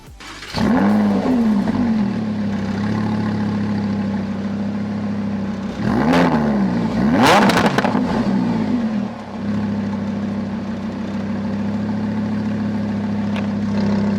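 An engine turns over and settles into a steady idle, then revs hard twice in quick bursts before dropping back to a loud, continuous idle.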